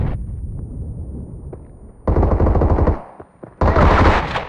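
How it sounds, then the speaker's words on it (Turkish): Rapid machine-gun fire and booming grenade blasts in a battle-royale shooter game, with long loud bursts of automatic shots and heavy explosions in two dense waves separated by a short lull. "50 tane bomba attı ya adam"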